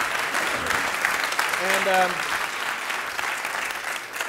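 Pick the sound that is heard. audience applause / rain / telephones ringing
audience applause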